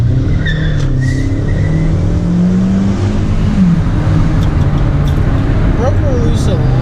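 A 2015 Hyundai Sonata engine revs hard and steadily as the driver tries to break the tires loose, a loud continuous drone with rising pitch sweeps and brief squeal-like tones, with voices heard over it.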